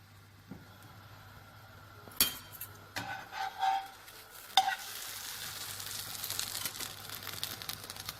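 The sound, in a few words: savory French toast cooking in a pan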